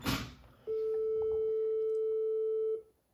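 A modular synthesizer telephone-ring sound plays as one steady electronic beep lasting about two seconds, clean and alone after a brief noisy start.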